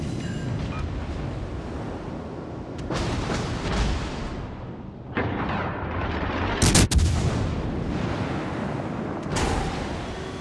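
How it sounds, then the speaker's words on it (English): HE shell fire in an Azure Lane naval battle, a dense run of booming cannon shots and heavy impacts, loud and sustained with sharper blasts standing out partway through. "the Azure Lane HE shells working this Cleveland. Those are some big hits."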